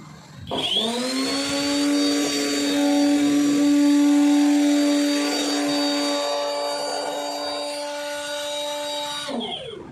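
Kitchenery silent high-speed blender prototype on a test bench, running at 20,000 RPM in smoothie mode: a loud steady motor whine that spins up sharply, holds with a strong tonal hum and swelling whoosh, then cuts off near the end.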